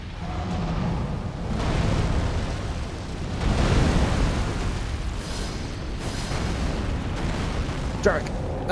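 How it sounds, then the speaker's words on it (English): Fiery rocks exploding in a melee action game, a run using only the Dragonscale Blade, come as repeated deep rumbling blasts and crackling bursts that swell and fade over a continuous roar, with a sharper pop near the end. "Have fun with your exploding fire rocks."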